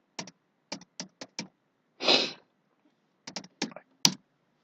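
Clicking keys on a computer keyboard as a search is typed, close-up in short bursts of quick taps with pauses, plus one longer rustling sound in between.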